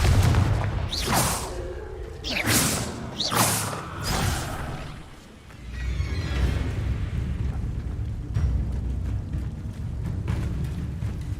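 Spells are cast in the video game Hogwarts Legacy, including the Confringo blasting spell, heard as a run of loud whooshing bursts and booming rumbles with mechanical rattling and a sustained low roar afterward.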